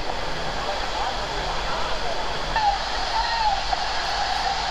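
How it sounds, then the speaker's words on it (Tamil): Water rushing down the artificial Cini waterfall at Hogenakkal, a loud, steady broadband roar that continues unbroken, with a faint high whistle-like tone briefly rising over it. "இப்போ போயிட்டுருக்குது சினி ஃபால்ஸு,"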